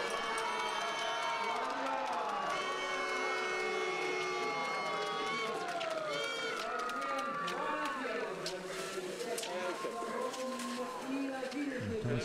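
Spectators at the Laura Cross Country and Biathlon Centre finish line in Sochi cheer a biathlete home, a continuous crowd of cheers and whistles with a commentator talking over it throughout.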